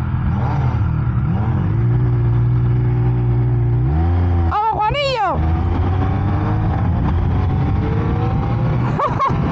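A loud Speed Triple RS motorcycle engine revs and accelerates hard, its pitch sweeping up and down, while someone shouts excitedly over it.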